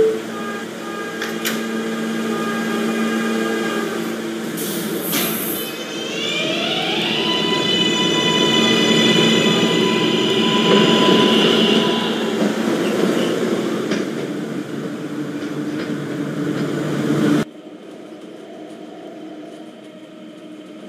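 An R143 subway train in Roblox rumbles and clatters steadily at close range, with whining motor tones rising, before cutting abruptly to quieter ambience.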